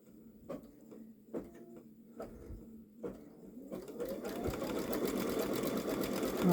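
Babylock Solaris Vision embroidery sewing machine couching on a sweatshirt: a few separate stitch thumps, then the motor spins up into a fast, continuous, rising run of rapid stitching, moderately close.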